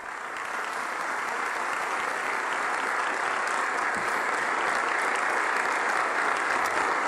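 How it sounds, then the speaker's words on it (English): Sustained, dense applause from a large room of lawmakers, Democrats and Republicans on their feet, a steady wash of clapping that holds evenly loud from start to finish with no voices. "So we've got all Democrats and Republicans agreeing to clap on this one."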